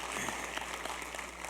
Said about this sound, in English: Yes, clap, clap, clap.